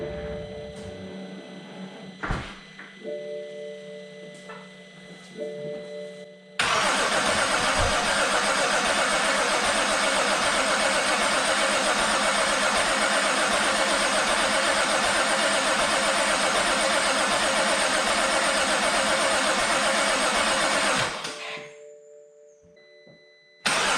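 A rebuilt BMW X5 engine cranks and catches, then runs at a loud, steady idle for about fifteen seconds before it cuts off abruptly, with quieter mechanical noises before and after.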